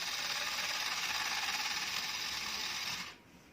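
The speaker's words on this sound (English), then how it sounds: "this is what it looks like when you press the shutter button" Fujica Z800 Single-8 film camera motor whirring steadily after the shutter is pressed, a close, even mechanical buzz that runs for about three seconds and then cuts off abruptly.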